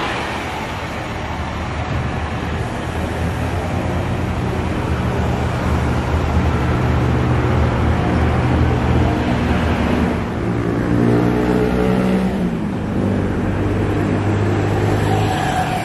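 A heavy Scania-engined bus rumbles close by at Pulogebang bus terminal with a deep diesel drone, rising as it revs and moves past amid road noise.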